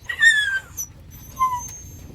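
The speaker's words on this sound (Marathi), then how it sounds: "हे सर कोणाचा डॉग आहे तुमचाच?" An injured dog whines in two thin, high, falling cries, the first longer and the second briefer, close by over a low background rumble.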